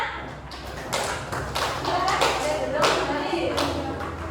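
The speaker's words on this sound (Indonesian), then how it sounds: "Berikan tepuk tangannya." Students in a classroom give scattered, uneven applause with distinct individual claps, moderately loud and close, while someone talks over it.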